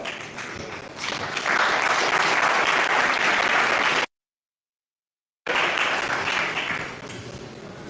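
An audience at a livestreamed startup pitch event applauds a presenter with a full, sustained burst of clapping that breaks off into complete silence, then resumes and fades.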